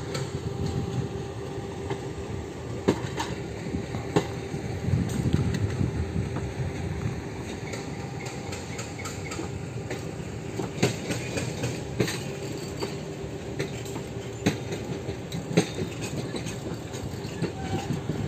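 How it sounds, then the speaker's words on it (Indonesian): Railway cars being shunted by a locomotive rumble slowly past nearby, with irregular clanks and knocks of couplings and wheels over a steady low rumble. "kebetulan ini ada kereta yang lagi langsir"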